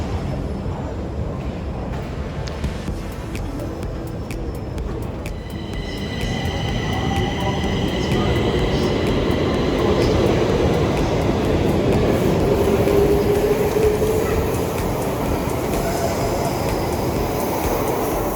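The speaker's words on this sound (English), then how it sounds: "We're gonna take Metro 14 from this terminal." A Stockholm Metro line 14 subway train approaches and runs through the station, a steady rolling rumble that swells louder midway, with faint high whines and squeals from the wheels and motors.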